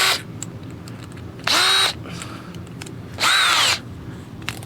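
A power drill bores into rusted truck cab corner metal on an old GMC dually pickup, giving two short, loud whining bursts with a quiet gap between them.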